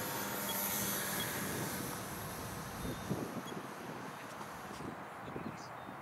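Electric motor of an F5J RC glider in flight gives a steady high whine mixed with wind rush, heard from the ground at a distance and fading slightly near the end.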